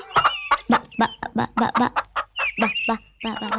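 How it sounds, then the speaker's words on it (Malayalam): Large chickens cluck in a quick series of short, distinct calls close by, rising and falling in a choppy rhythm with one longer drawn-out note near the end. "എന്റെ ഈശോയെ, എന്നാ വലിപ്പമായി കോഴിക്കൊക്കെ."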